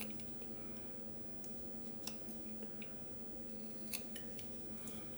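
A whittling knife making a stop cut in wood while carving a face's nose: faint, close scraping with a few sharp little clicks and snips at irregular moments, quiet throughout.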